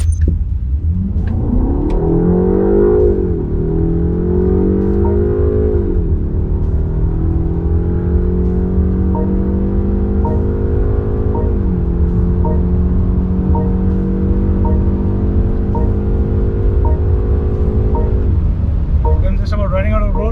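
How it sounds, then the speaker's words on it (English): A BMW 530i long-wheelbase sedan launches hard, its engine note climbing through several rising gear pulls with brief drops between shifts, loud and close, ending with a faint whoosh of passing air. "This is the 530i launching from 20."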